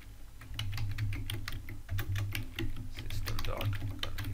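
Steady, close computer keyboard typing as code is entered in a VB.NET tutorial, rapid clustered key clicks running throughout over a low hum.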